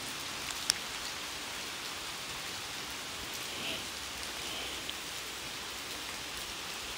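Heavy rain pours down at night at a tunnel in Kanagawa, Japan, a dense, steady hiss of drops drumming on surfaces with a few sharper taps, and no voices.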